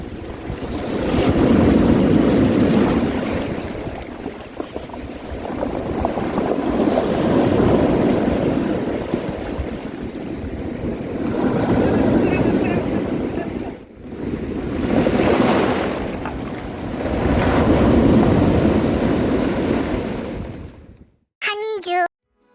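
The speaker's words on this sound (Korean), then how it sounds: "잠시 후 파도 소리 감상 시간이 있겠습니다." Ocean waves roll onto the shore in long repeating surges, each swell rising and falling over several seconds, loud and close with wind buffeting the microphone, ending in a brief sharp sound.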